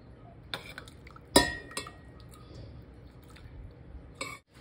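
Boiled tomato water is strained in a kitchen, with scattered metal clinks and taps of utensils and dishes plus faint dripping of liquid, one sharper clink standing out, all fairly quiet and without voices.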